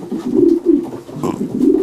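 A 2021 racing pigeon of a Leideman-bred line coos close by, a loud, low, bubbling coo repeated in a steady rhythmic series of rolling phrases with no talk.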